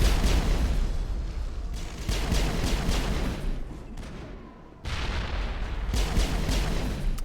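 Grenades explode amid continuous gunfire in a Mass Effect combat scene, loud, dense blasts and crackling shots rolling on with a brief dip before the barrage resumes.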